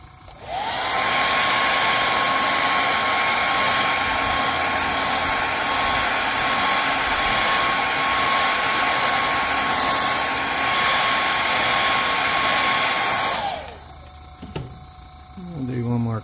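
A heat gun blows steadily and loudly at close range for about thirteen seconds to heat-set airbrushed paint on a crankbait fishing lure, then cuts off, leaving quieter handling sounds.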